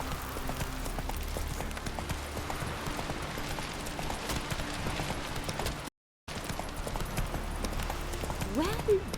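Roach, the horse in The Witcher 3, gallops in steady, rapid clip-clop hoofbeats that hold through the whole stretch, with game music and a voice speaking over them.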